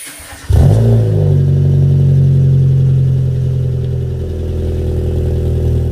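A Renault Clio fitted with a Hornet exhaust that leaks at an unclamped mid pipe starts up and settles into a loud, steady, rumbling idle, close by and with no talking.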